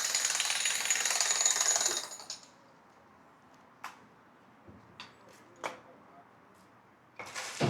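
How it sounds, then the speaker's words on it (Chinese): Repair and reinforcement work on an old pavilion begins with two seconds of loud, continuous jackhammer-like drilling, then falls to quiet background with scattered sharp knocks and metallic clanks before a final short burst of drilling. "现在工人都在加紧的进行一个施工，进行一个加固维修。"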